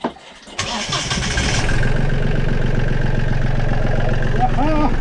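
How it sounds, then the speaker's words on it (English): A boat's diesel engine, left standing all winter, cranks and fires with a sudden onset, then settles into a loud, steady idle running without the propeller engaged, with faint voices in the background. "That was pretty good for an engine that has been standing all winter"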